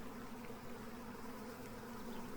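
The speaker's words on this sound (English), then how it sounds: "The bees are in." A swarm of honeybees settling into a five-frame deep hive box makes a steady, dense buzzing hum, continuous and fairly faint, with no voices.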